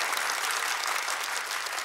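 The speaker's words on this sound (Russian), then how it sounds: "под аплодисменты нашей студии" Studio audience applause on a Russian television quiz show, a dense, steady wash of many hands clapping close and loud, filling the whole brief moment with no voices over it.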